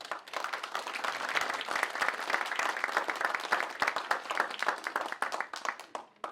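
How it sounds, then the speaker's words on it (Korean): A church congregation at a QT seminar claps warmly together, a dense, even patter of many hands that holds steady for several seconds with no speech over it. "우리 조은영 전도사님 나와서 또 큐티 강의하실 때 힘찬 박수로"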